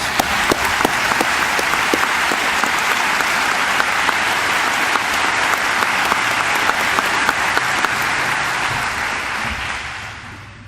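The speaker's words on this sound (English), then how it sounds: "Give her a round of applause" An audience at a Naval Academy speaker event gives a sustained round of applause for a woman recovering from a stroke, the dense, even clapping holding strong for about ten seconds before tapering off at the end.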